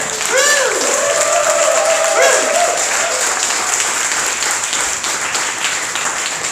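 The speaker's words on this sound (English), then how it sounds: "Please give a loud round of applause for Together." A demo day crowd at a Taipei startup accelerator claps in a loud, sustained round to welcome a startup to the stage. Rising electronic tones sound over the opening seconds, and faint voices mix in.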